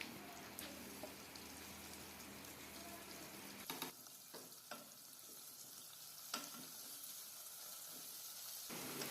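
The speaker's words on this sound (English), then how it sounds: "Mix the tomatoes." Tomatoes are stirred into a hot sizzling pan while cooking an Indian-style mutton curry, giving a steady frying hiss with a few scraping stir strokes and clinks, with no talk.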